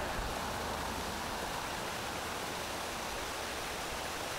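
A small waterfall on a mini golf hole gives a steady, soft wash of falling water, even and unbroken throughout with no other sounds.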